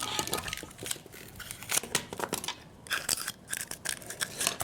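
Scissors snip through tape wrapped around an object, with dense crinkling and crunchy cutting sounds, close and continuous for a few seconds.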